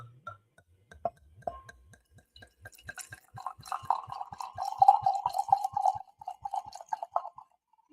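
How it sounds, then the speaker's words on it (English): Lubanzi Shiraz 2023 red wine poured into a glass, a soft trickling, gurgling stream with a few faint clinks, building in the middle and tapering off, quiet and close. "The first pour, everyone."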